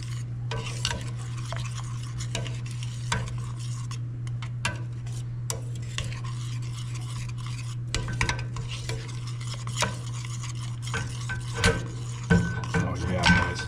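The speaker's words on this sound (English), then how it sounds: "So we're going to let this cook. Keep stirring it." Deep-fried venison in Hunan sauce being stirred in a pan: repeated clicking and scraping of a utensil against the pan over a low steady hum, with faint sizzling underneath.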